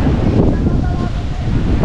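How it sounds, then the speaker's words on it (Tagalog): Strong wind buffets the microphone with a loud low roar while big waves churn beneath at a swimming beach, constant and close throughout. "Lakas ng hangin kaya yung alon malakas din, malaki din."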